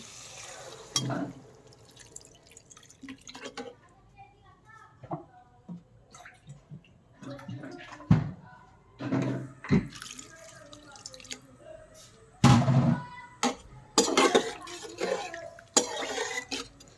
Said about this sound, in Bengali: এখন আমি দিয়ে দেবো ঝোলের জন্য পানি।